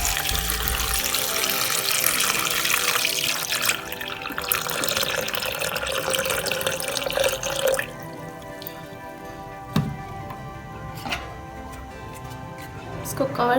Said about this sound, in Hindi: और डाल देंगे पानी। 2 गिलास हमने पानी लिया।